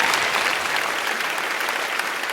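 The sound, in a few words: audience applause in TV show studio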